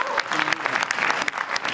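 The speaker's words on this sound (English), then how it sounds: "So I think a big clap for that also." An audience at a panel conversation gives a big round of applause, crisp individual claps popping over a steady crowd patter, with a voice briefly heard early on.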